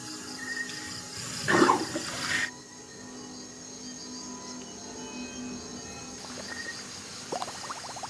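A large saltwater crocodile gulps down several liters of water to help swallow a meal: a brief, loud sloshing, gurgling burst up close, then quieter watery movement and a few faint splashes.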